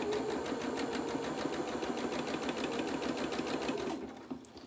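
A sewing machine zigzag-stitches fabric edges at a 3.5 width and 1.5 length for lingerie-style French knickers. It makes a loud, rapid, even mechanical whirring close by and stops just before the end.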